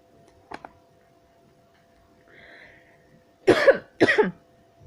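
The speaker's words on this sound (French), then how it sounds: "Désolé si je tousse" A short cough, then a faint hum, and two louder harsh coughs close together near the end in an otherwise quiet room.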